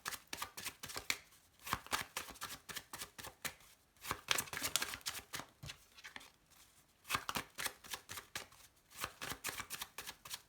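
Tarot cards being shuffled by hand, a run of soft riffling, slapping bursts broken by short pauses, close and fairly quiet with no talking.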